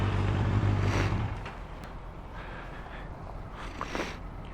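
A motorcycle engine shifting down from fourth gear, its loud, steady low rumble dropping away after about a second and a half to a quieter idle-like drone with faint wind.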